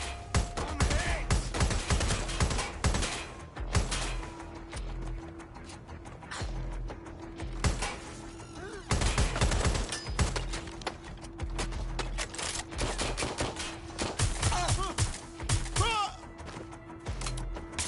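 Rapid gunfire rattles in bursts throughout a firefight in Watch Dogs Legion, with sharp repeated shots of varying loudness and game voices shouting over the shooting.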